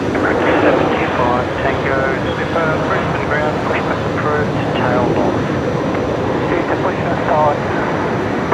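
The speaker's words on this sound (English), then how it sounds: "We'll get this arrival coming in, which is Velocity 349 from Melbourne. Here on 19 left, the 737-800." Boeing 737-800 jet arriving on runway 19 left at Brisbane Airport, a loud continuous engine roar filling the scene at night, with people talking over it throughout.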